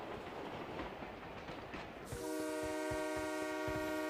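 A train in the video game BGMI rumbles past with rhythmic clatter, then a loud sustained horn blares over the rolling wheels.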